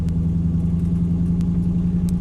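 A Nissan R32 Skyline engine idles steadily nearby as the car is moved, a loud, even low hum with faint ticks and clatter above it.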